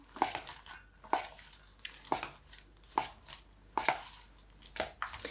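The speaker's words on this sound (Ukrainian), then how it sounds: "Тому спочатку я просто перемішую інгредієнти всі." Ingredients for a vegetarian winter salad are stirred together in a bowl, giving moist, squishing and scraping thuds at a steady rhythm of roughly one per second, close and fairly quiet, with no talking.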